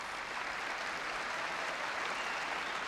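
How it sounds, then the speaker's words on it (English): Spectators at a badminton match break into a short burst of cheering and clapping, a steady, fairly faint crowd wash with no pause. "And a cheer because Hartono has notched his first point in this second game."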